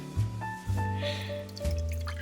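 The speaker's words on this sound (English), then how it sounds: "So now we start off with a cup of water. I put in around like a cup and a half. So we pour it" Water is poured from a jug into a bowl, giving short splashing gushes with a rising, hollow ring as the bowl fills, in three or four brief bursts at close range.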